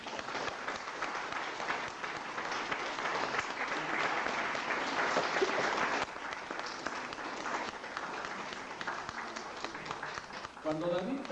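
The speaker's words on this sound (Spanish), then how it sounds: "¿Le da un aplauso a Jesús?" A church congregation gives sustained, dense applause for Jesus, steady clapping that fills the room for several seconds, with a voice speaking over it near the end.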